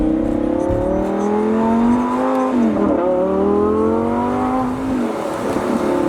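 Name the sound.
Lamborghini Gallardo accelerating and shifting gears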